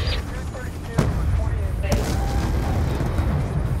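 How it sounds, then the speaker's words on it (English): Gunfire erupts in a video game ambush, with loud sharp shots and booms over a constant rumble of combat while voices call out in the background. "We're taking fire from all sides!"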